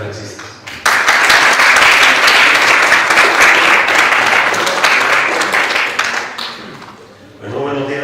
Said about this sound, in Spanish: Por favor, denle un fuerte aplauso a los conferencistas.